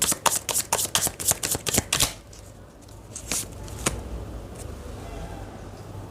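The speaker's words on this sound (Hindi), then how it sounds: "एक कार्ड और लेना चाहूँगी मैं आप लोगों के लिए।" Tarot cards being shuffled and drawn from the deck, starting with a fast flurry of crisp riffling snaps. A few single card flicks follow, close up, in an otherwise quiet room.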